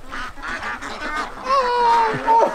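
Ducks quacking and honking close by in a loud cluster, with harsh, bursting calls that overlap and come in rapid succession, especially in the latter half.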